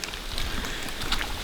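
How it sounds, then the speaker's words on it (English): Steady patter of rain dripping through leaves in an Alabama woodland during turkey hunting season, a soft continuous wash with scattered brighter drops, close and moderately loud, no voices. "noisy because of the rain falling through, or the water falling through the leaves"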